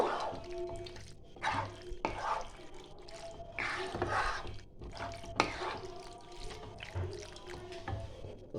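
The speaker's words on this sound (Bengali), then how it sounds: "এবার ভালো করে আমি নাড়িয়ে চাড়িয়ে নেব" White sauce pasta with vegetables being stirred in a pan, giving repeated wet squelching and scraping sounds in an irregular rhythm, close and moderately loud.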